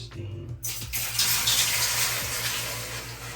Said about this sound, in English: Put some water on the rocks. Make some steam.